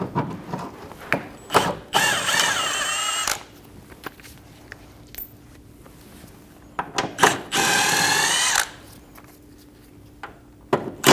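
Power tool, likely an impact driver, running loosening bolts on a rear control arm of a 2012-2022 Volkswagen Passat, in two loud sustained bursts of a few seconds each, with scattered clanks and tool handling in between.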